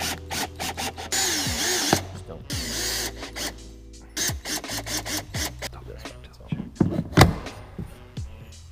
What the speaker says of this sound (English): So now let's get the Sealite adapter drilled on.